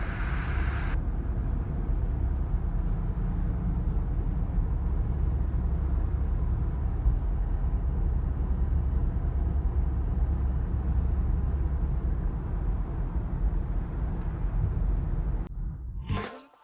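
A steady, broadband road drone from inside a moving Jeep, continuous and even for most of the stretch, ending with a brief rustle and cut-off; nobody speaks.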